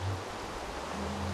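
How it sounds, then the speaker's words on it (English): Steady rain falling in the Minecraft video game, a soft, even hiss with no individual drops standing out, continuous and fairly loud with no voices. "got rid of the horrible rain"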